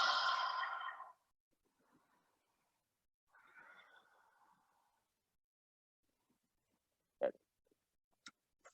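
A deep breath taken during a home yoga flow, starting with a loud breathy exhale that fades after about a second, followed later by a softer, longer breath and a few faint clicks.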